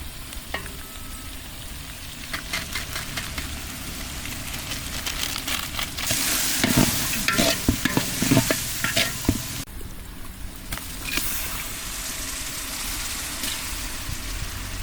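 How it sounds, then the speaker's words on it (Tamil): Masala with chili powder and biryani masala sizzles and fries in a pot outdoors in a garden while a spoon stirs and scrapes against the sides, the crackling growing louder midway. "மிளகாத்தூள் பிரியாணி மசாலாவும் தான் போட்டு கிளறி விட்டுருவேங்க."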